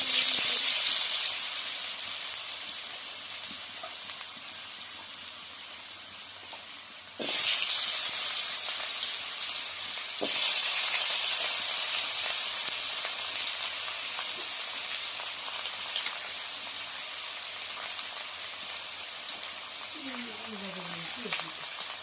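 Potatoes fry in hot oil with a steady hiss and sizzle that swells at a few points, close and continuous, with faint talk in the background.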